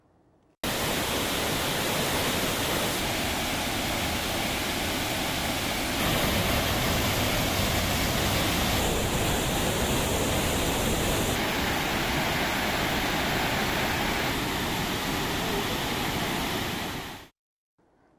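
Hogenakkal waterfall in full spate after increased water flow, heard as a loud, dense, continuous roar of crashing water that holds steady without pause.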